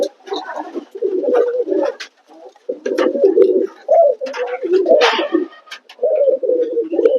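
Domestic pigeons kept in a home loft coo in repeated low, throaty bursts, several birds overlapping near the listener with brief pauses between phrases and faint chirps above.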